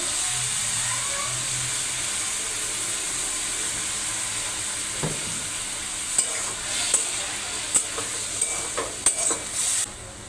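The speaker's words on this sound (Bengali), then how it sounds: "হালকা একটু জল দিয়ে নিচ্ছি সবজিটা কষানোর জন্য" Potato, pointed gourd and other vegetables sizzling in a pan after a splash of water is added for a Bengali village-style curry, a steady hiss punctuated by scraping and clinking as a spoon stirs, growing more frequent toward the end.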